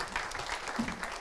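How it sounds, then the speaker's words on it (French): A short burst of audience applause at a French panel discussion on the care-home to home continuum, moderate and fairly close, with scattered individual claps in the mix. "Alors, on va vous applaudir tous les trois."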